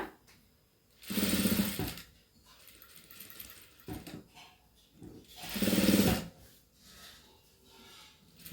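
A sewing machine stitches a cross belt strip in two loud bursts of a second or so each, separated by quieter handling of the fabric, with no talking.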